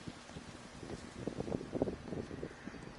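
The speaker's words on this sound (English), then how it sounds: "You can hear the crunch of the leaves, the way they sway, the wind." Wind blows through the deserted village of Everybody's Gone to the Rapture while leaves crunch and rustle in soft, uneven bursts that swell midway and then ease off.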